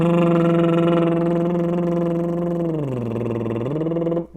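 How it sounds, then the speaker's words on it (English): A voice sustains a buzzing lip trill on a steady pitch, dips lower partway through, rises back, then breaks off. "The first one is a lip buzz."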